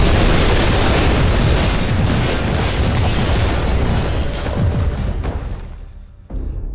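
Destroyed structures in the Instruments of Destruction video game erupt in heavy explosions, a dense, continuous roaring boom that rumbles loudly for several seconds before dropping off abruptly and starting again.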